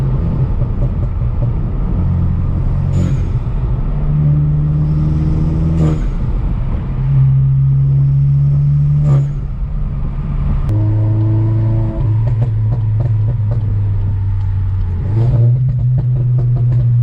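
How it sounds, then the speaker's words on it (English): A manual VW Mk8 GTI, Stage 2 tuned and running E85, revs hard through several gear changes while building turbo boost. The engine drone rises, drops at each shift and climbs again, loud and close throughout. "Let me just build some boost for you guys then"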